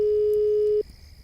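A telephone busy tone sounds as a call is rejected: a loud steady electronic beep that stops abruptly, leaving quiet line hiss behind.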